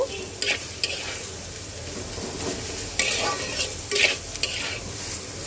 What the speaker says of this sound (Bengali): এইবার একটু সুন্দর করে মিক্সড করে দেব